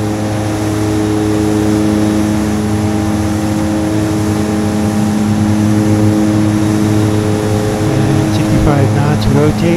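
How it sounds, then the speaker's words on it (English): Aircraft engines roar at full takeoff power in Microsoft Flight Simulator X during a night departure from Saba. The engine drone is loud, steady and continuous throughout, with a layered, humming quality and only slight swells toward the end. "waiting for full engines to spool up. We have full power and brakes off."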